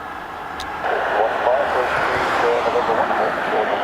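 A C-130 Hercules military transport aircraft departs Dublin Airport, its broad propeller-turboprop roar building and holding steady at moderate distance, with faint voices underneath.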